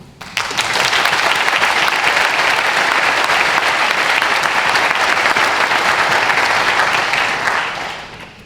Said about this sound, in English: let's first give an applause so that we can get the session going